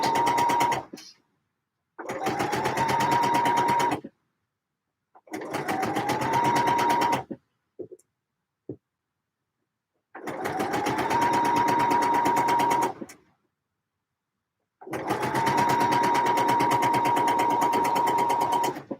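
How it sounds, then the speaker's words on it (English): A sewing machine runs in five steady bursts of a few seconds each while stitching the side front of a pair of trousers. Short pauses fall between the runs, with faint clicks in one gap and no talk. "then we can sew in the side front"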